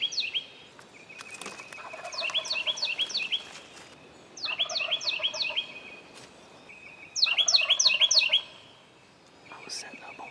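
A wild turkey gobbler in Tennessee woods gobbles in hard, rattling bursts, about four of them, with other gobbling close by. Quieter calls sound between the bursts.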